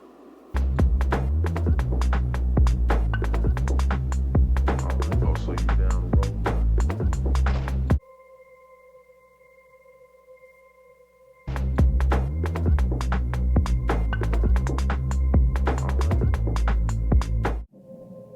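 Dense, dark ambient electronic music with heavy low end pulses, breaks into a quiet hum with faint high tones, then returns full and throbbing.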